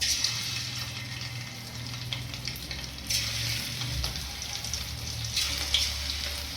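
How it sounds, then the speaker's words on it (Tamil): Marinated prawns fry in hot oil in a kadai, producing a steady close sizzle with bubbling crackle and occasional louder spits, heard alone. "இப்போ ஒன்று ஒன்றா போட்டு பொரிச்சு எடுத்துடலாம்"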